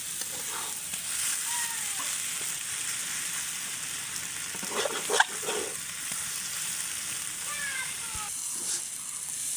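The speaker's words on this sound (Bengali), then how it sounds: "তো এরকম করে কিন্তু ভাজা ভাজা করতে হবে, যত ভাজবেন ততই মজা।" Banana flower stir-fries in a pan with a soft, steady sizzle, the spatula scraping and tossing in a brief louder burst partway through, while a voice talks quietly over the frying.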